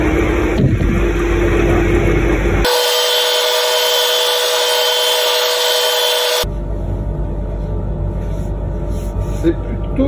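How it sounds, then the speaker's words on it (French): A wood lathe turning a large, deep plane-wood platter while a negative-rake scraper works the surface: a steady droning hum with continuous rubbing and scraping. "on continue avec un petit coup de racloir angle négatif"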